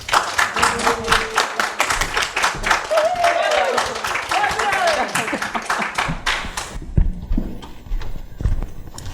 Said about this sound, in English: please join me in clapping as loudly as you can so we make it sound like there are more of us